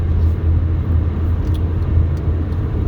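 Heavy road traffic passes nearby as a dense, even rumble of car engines and tires that holds steady throughout, loud and close, with no one talking.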